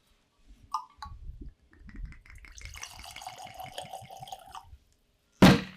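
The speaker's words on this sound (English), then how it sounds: "Always love the sound of that pour." Whiskey pours from a bottle into a glass, a soft trickling and glugging splash lasting a few seconds, close and fairly quiet, ending with a sharp clink.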